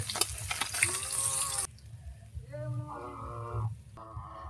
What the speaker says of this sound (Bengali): মাছটাকে দুপারে লাল লাল করে ভেজে নেব।